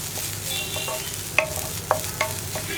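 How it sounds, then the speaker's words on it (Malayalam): Sugar melting with coconut in a hot pan, stirred so a spoon knocks and scrapes the pan a few times over a steady low sizzle, close and alone with no voices. "പഞ്ചസാരയൊക്കെ മെൽറ്റായി തുടങ്ങുന്നുണ്ട്."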